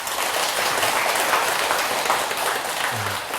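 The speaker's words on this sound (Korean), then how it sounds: "박수 한번 치세요" An audience claps together at a Buddhist monk's lecture hall talk, a steady, even wash of many hands filling the whole stretch, moderately loud and without speech over it.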